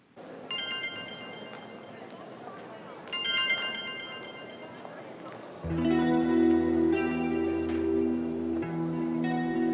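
A telephone ringtone in a Hindi-dubbed drama episode plays bright electronic melodic bursts that repeat, then gives way to a louder, lower sustained tone partway through, with people talking over it.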